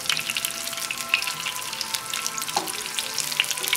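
Veal cordon bleu sizzles and spits steadily in a hot pan, a dense continuous frying hiss with small crackling pops scattered throughout and no voices.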